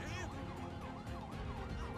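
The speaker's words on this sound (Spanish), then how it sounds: "Voy a apagar la sirena porque no es necesaria." Police vehicle siren in GTA 5, a continuous wailing sweep rising and falling repeatedly, loud and close over a low engine-like rumble.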